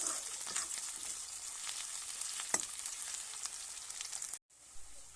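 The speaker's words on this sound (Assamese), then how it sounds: "এতিয়া এইখিনি পিঁয়াজখিনি এবাৰ ভালদৰে লৰাই দিছোঁ।" Onions and green chillies fry in oil in a pan while being stirred, giving a steady close sizzle with occasional scraping clicks, then a brief drop to near silence before the sizzle resumes.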